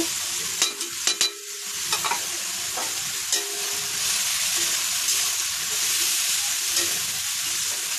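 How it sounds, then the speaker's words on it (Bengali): Onion, garlic, green chili and dried shrimp fry in a pan with a steady, close sizzle, broken by a few sharp scrapes and clicks of stirring. "পেঁয়াজ রসুন কাঁচা লঙ্কা একটু ভাজা ভাজা করে নেব তার সঙ্গে এই চিংড়ি মাছটাও দিয়ে দেব দিয়ে একসঙ্গে ভাজা করব"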